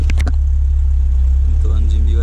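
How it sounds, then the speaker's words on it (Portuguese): A turbocharged Volkswagen Gol GTS engine idles at around 1000 RPM with a low, steady rumble close by while someone talks over it. "eu vou mostrar para vocês como ficou a marcha lenta do carro"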